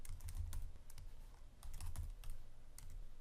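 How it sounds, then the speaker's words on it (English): Computer keyboard keys tapped in quick, uneven bursts while text is entered into a PowerPoint 2013 table, close and fairly quiet, with short pauses between runs of keystrokes and no voices. "we just simply type the text here"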